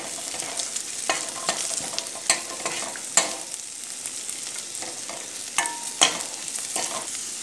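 Onions sauté in a pan for squid masala, a steady sizzle broken by sharp clacks and scrapes of a spoon against the pan every second or so, close and without talk.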